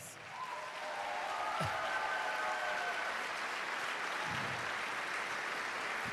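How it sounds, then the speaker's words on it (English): An audience at a dance competition event applauds to welcome the dancers back onstage, a steady wash of distant clapping that holds evenly throughout, with faint music tones drifting in early on. "let's welcome back all our dancers to the stage with a nice round of applause"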